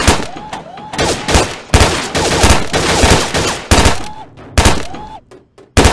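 Rapid bursts of 9mm submachine gun fire from an IWI Uzi Pro in the VR shooting game Gun Club VR, several loud strings of automatic shots separated by short pauses, with a few brief metallic clicks between them.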